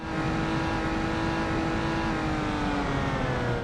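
Simulated car engine in the Automation tycoon game revving hard under full acceleration down a ramp, a steady loud drone with rising harmonics held for several seconds, with no voices.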